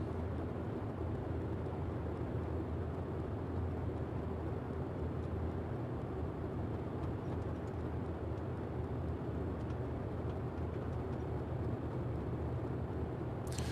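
Simulated Boeing 247D piston engine at reduced throttle in Microsoft Flight Simulator, a steady, low, even drone heard from inside the cockpit, unchanging and fairly quiet throughout.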